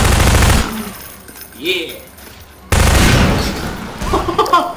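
Rapid SMG fire in the video game Half-Life 2, loud dense bursts that cut off abruptly and resume, with a player's excited shout between them.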